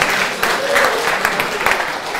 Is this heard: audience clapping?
yes